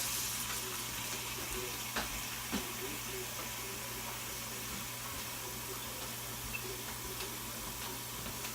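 Tap water runs steadily into a pot for beef pot roast, a continuous hissing splash that holds even throughout and is heard alone, without talk.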